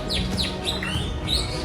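A white-rumped shama (murai batu) named Lexus sings at a songbird contest, its song made of bright, sweeping whistled phrases repeated several times, loud and close, over a faint hum of crowd noise.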